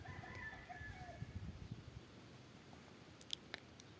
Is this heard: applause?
no